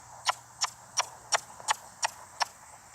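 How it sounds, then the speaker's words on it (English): A horse comes running in with seven crisp, evenly spaced hoofbeats in quick rhythm. The hooves are moderately close against a quiet background. "she got distracted by another horse running in"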